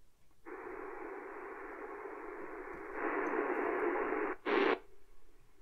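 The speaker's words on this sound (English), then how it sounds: "it's stopping on static," A Radio Shack DX-390 shortwave receiver hisses with steady static that brightens partway through, then ends in a short louder burst of noise, heard alone and close.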